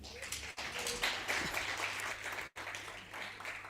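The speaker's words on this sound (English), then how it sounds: "Can we give them a hand of applause?" Audience at a women in sport conference giving applause to speakers, a broad, steady wash of clapping from a sizeable crowd, with brief gaps in the recording.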